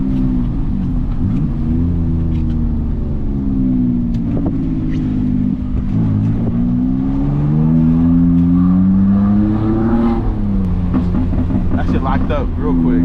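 A car engine drones loud and close with rising and falling pitch as it accelerates, the steady roar filling the whole stretch while someone talks over it; the rear tires are sticky and at high pressure.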